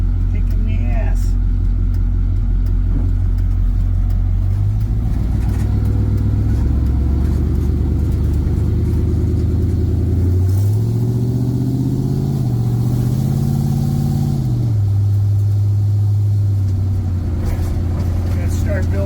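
Truck engine at a garage revving in several surges and settling between them, a deep loud rumble with rising and falling pitch, while someone talks over it now and then.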